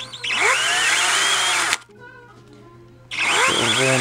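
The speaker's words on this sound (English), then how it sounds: "So I'm gonna drill a couple holes in here." A power drill whines loudly at high speed while drilling holes during a rebuild of a 1958 Admiral tube TV set, cuts out for over a second, then spins up again close by.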